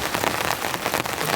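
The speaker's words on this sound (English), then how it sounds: "Well, I wasn't really expecting a full-blown rainstorm in the morning." Heavy rain pounds steadily on the roof of a compact camping van during a morning rainstorm, a dense, continuous patter close overhead with no voices.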